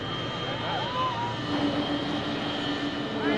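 A Boeing 777 jet engine starting hums and whines steadily, with rising tones and a continuous roar, close by and loud.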